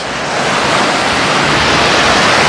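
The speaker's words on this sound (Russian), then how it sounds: "вот прибой накатывает, накатывает, и мелкий мусор подбрасывают" Sea surf rolls steadily onto a beach at Dzhemete, Anapa, a loud dense wash of breaking water that swells slightly and stays constant, with wind noise on the microphone and no voices.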